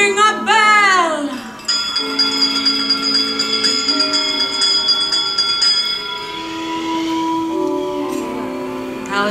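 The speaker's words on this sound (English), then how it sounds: "give us a hint by ringing a bell" A bell rings loudly at Disneyland's Haunted Mansion 40th anniversary dinner show. Its sustained, resonant tones are layered with a dense musical backdrop and ring steadily throughout.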